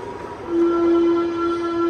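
A yellow train at a Berlin station sounds its horn: a loud, steady, sustained tone that begins about half a second in and holds to the end over low station background noise.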